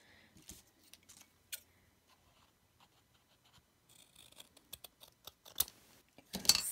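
Quiet snipping and crisp paper rustles, a few isolated cuts early, then a busier run of sharp clicks and rustling that grows louder toward the end.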